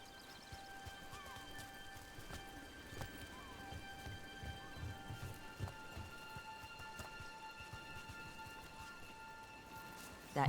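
Rain falls steadily in the video game Dragon Age: The Veilguard, a soft continuous patter with scattered drops, heard alongside faint hoof clops, a low tonal drone and occasional game sounds.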